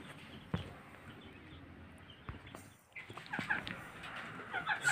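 Two-day-old Baladi and Fayoumi chicks cheep and peep in a continuous chorus, with a busier, louder burst of calls in the second half.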